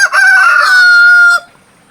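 A pet rooster lets out a single loud, close crow, one sustained strained call that cuts off abruptly into quiet.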